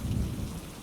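Steady rain and a low thunderstorm rumble wash over a storm-lashed farmhouse, dense and continuous with heavier low rolling in the first half before easing slightly, no voices.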